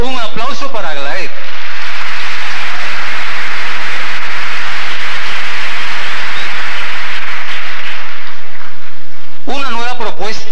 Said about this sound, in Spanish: aplauso para Aglaé.